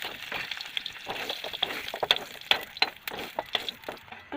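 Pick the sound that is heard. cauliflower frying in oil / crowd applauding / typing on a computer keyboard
cauliflower frying in oil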